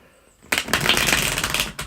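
Tarot cards being shuffled by hand: after a short quiet lead-in, a dense run of rapid papery riffling and flicking, close and fairly loud, ends with a brief pause and a final flutter.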